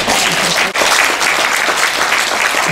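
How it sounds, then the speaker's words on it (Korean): An audience applauds at a year-end choir concert: dense, loud, sustained clapping from many hands fills the hall without a break. "이때 박수 치는 겁니다."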